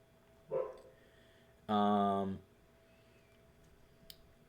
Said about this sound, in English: If you can hear that, that's my dog barking.